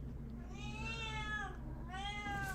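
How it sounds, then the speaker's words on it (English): A pet cat meows twice nearby during a live stream, with the two drawn-out, rising and falling cries clear over a low indoor hum. "My cat insists she's a part of this live stream."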